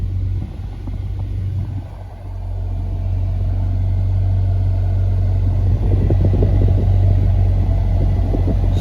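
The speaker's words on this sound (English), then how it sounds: "Okay, I hear the compressor turn on." Dodge Challenger AC compressor kicking in under a steady low engine rumble, the hum holding constant after a brief dip near the start, with no voices.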